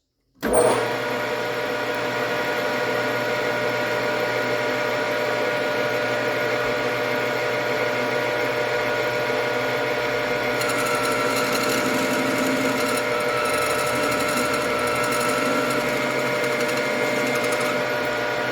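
Metal lathe cutting with a 60-degree form tool set off center, steady loud machine whine and motor drone running continuously from start to finish, with a harsher cutting texture joining partway through.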